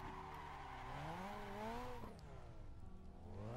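A Mazda RX-7 in the Assetto Corsa racing game runs steadily, its engine note sliding up and down through gear changes, with a brief tire squeal and a dip in revs partway through.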